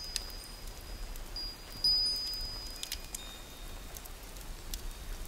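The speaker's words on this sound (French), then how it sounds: "Écoutez la pluie. Elle est douce, régulière," Gentle, steady rain falling in a soft, continuous hiss with scattered faint droplet ticks, quiet and even throughout with no voices.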